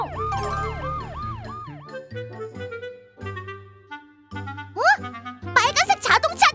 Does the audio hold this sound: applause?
no